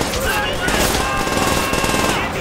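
Rapid gunfire fills the Call of Duty: World at War match, a dense, loud, unbroken stream of automatic shots with overlapping bursts and no pauses.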